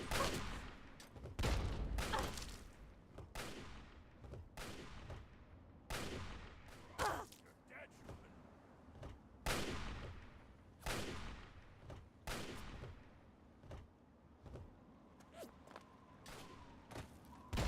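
Video game combat brings a series of sharp explosive bangs and gunshots from grenades and gunfire, irregularly spaced and repeating every second or two, each decaying quickly.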